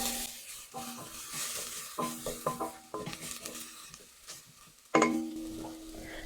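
Onions sautéing in a pan on a home stove while being stirred, with a soft steady sizzle under repeated scraping and stirring strokes, and one sharper clatter of the utensil near the end.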